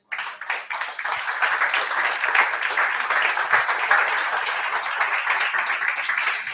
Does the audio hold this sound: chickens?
no